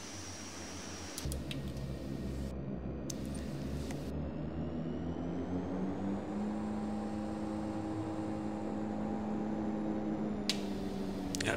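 A de Havilland Twin Otter's turboprop engines run near full throttle in a flight simulator while taxiing at Tapini; a steady, loud droning whine holds throughout with slowly rising tone.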